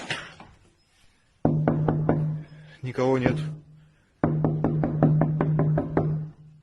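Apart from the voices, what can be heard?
knocking on a window at night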